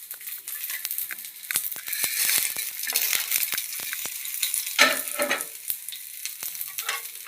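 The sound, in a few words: horse gram and urad dal dry-roasting in a pan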